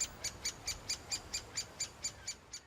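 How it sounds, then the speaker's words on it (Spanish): A bird calls in a steady, evenly spaced series of about a dozen short, high chirps, moderately close over faint background noise. "el canto de los pájaros"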